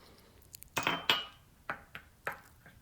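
Utensil clinking and scraping against a mug while roughly stirring paleo sweet potato chocolate mug cake batter with coconut milk, several sharp close taps in uneven rhythm, alone.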